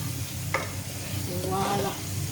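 Garlic and onion frying and caramelising in oil, a steady close sizzle with a brief clatter of stirring.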